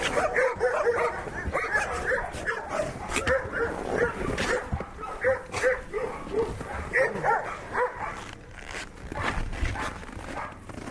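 Dogs left hungry and cold outdoors whimper, yip and bark in a near, continuous jumble of overlapping cries, with no one speaking.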